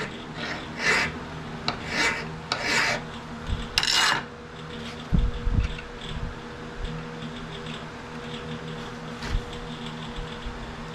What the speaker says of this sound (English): Got a square file on it. Right on that shoulder.